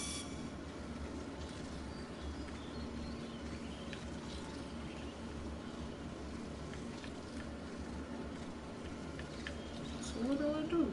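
Train rumbling in the Among the Sleep video game, a steady low rolling rush with a brief wheel squeal near the end, while a person talks over it.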